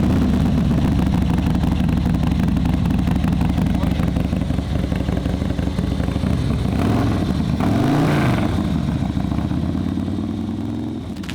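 A tuned Harley-Davidson Low Rider ST engine runs on a dyno with upgraded air cleaner and fueling parts, roaring steadily and loudly at high revs, with a couple of throttle swells near the end before the tone slightly drops.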